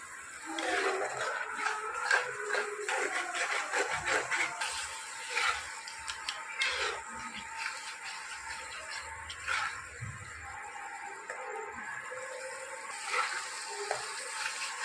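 Spice paste fries in oil in a pan, bhuna style, with a small splash of water added: a steady close sizzle and crackle, broken by occasional stirring scrapes and pops.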